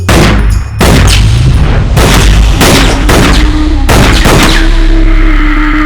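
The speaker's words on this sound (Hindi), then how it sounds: "ये सारी गोलियां तू उस पुतले के सीने में उतार कर क्या साबित करना चाहता है?" Gunshots fired into a dummy in a movie scene: a loud, close series of sharp booming blasts in irregular succession, each with a short ringing decay, and no talk.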